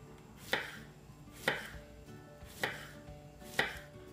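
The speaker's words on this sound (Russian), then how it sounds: "Мы берем наш кабачок и цукини, обрезаем все лишнее и нарезаем его тоненькими дольками" A knife chops through zucchini on a board into thin slices, four evenly spaced cuts, close and crisp.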